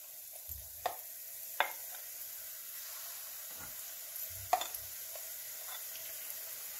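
Spoonfuls of pakora batter drop into hot oil for dahi bhalle, producing a faint, steady sizzle broken by a few soft spoon clicks and splashes.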